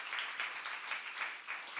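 A church congregation applauds, a dense, even wash of many hands clapping at moderate distance, sustained without pause.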